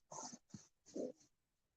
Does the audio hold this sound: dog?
yes